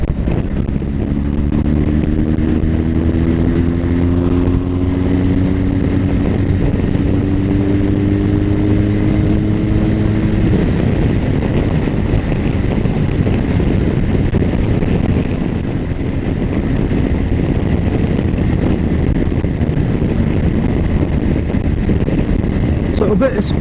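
A BMW R1200GS TE motorcycle engine under throttle while riding, a steady loud drone with rising harmonic tones as it accelerates, then a broader rough roar, with wind noise and a rider talking over it.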